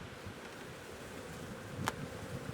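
Honeybees in an opened top bar hive give a faint, steady buzzing hum throughout, with one brief sharper noise near the end.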